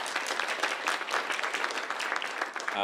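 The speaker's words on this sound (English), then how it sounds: "Round of applause, please, Pixis." Dense audience applause at a conference closing panel session, a busy, continuous patter of many hands clapping close by, with a brief tonal sound creeping in at the very end.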